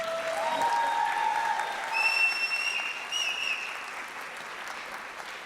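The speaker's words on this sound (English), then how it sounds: "I was going to ask for a special round of applause," Audience applause at a Bharatanatyam arangetram fills the hall, a steady wash of many hands clapping at moderate distance and sustained throughout, with faint tonal sounds above it.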